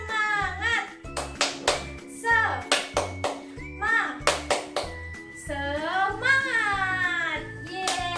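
A class of children does a rhythmic spirit clap together, with clusters of sharp hand claps in a steady chanted pattern and young voices calling out between the beats, loud and close.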